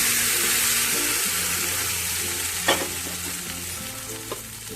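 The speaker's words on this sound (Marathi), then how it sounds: "आपण फोडणी याच्यावर घालून घेऊया" Curry leaves and green chillies sizzle in hot oil as a tempering poured over a dal and rice appe batter, a loud steady hiss with a couple of sharp spatters, slowly easing, with no speech.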